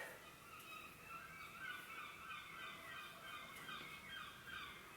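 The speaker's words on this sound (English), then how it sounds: "Don't know if you can hear the birds around here. It's living near the water." Birds calling near water, a steady chorus of chirps and squawks at moderate distance with no talking, continuing evenly throughout.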